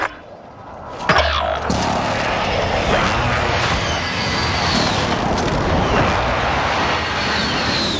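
An artillery strike called in during a Call of Duty Warzone match, with a loud boom at the start rolling into a sustained roar of aircraft engine and distant blasts that stays heavy throughout.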